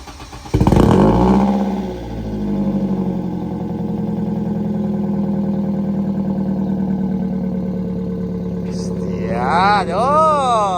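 A BMW Compact 316 four-cylinder engine fitted with an adapted 318 Is exhaust cranks and fires up, then settles into a steady, deep idle, close and loud, with people reacting excitedly near the end.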